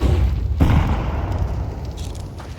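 A grenade goes off with a deep, rumbling boom that swells near the start and slowly fades into a low roar over a couple of seconds, with no voices.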